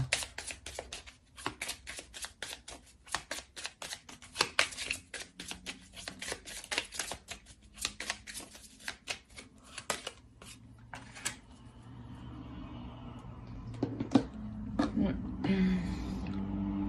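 Playing cards are shuffled and handled in rapid bursts of crisp riffling and flicking, then laid down with soft slaps, close and fairly loud, with a low hum underneath.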